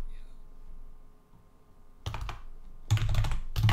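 Typing on a computer keyboard while entering Geant4 detector code: quiet at first, then three dense bursts of rapid, close key clicks in the second half.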